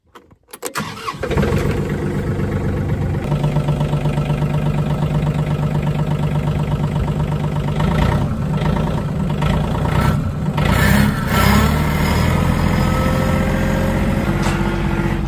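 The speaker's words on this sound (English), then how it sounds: "Let's go get the tractor." Farm tractor engine cranks briefly and catches within the first second, then settles into a loud, steady diesel idle close by that runs on unchanged, with occasional slight revving surges.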